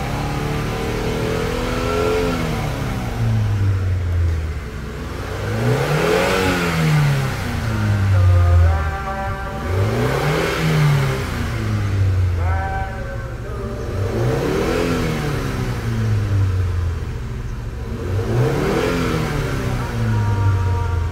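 An old Hyundai Trajet engine revs repeatedly toward about 4000 rpm, each rise and fall cycling roughly every two to three seconds, loud and close with a steady idle drone between pulls.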